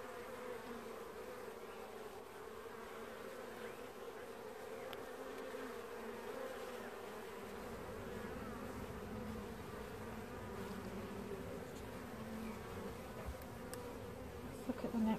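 Honey bees buzz around an open hive after a heat wave, a dense steady drone that holds close and even for the whole stretch, with no talk over it.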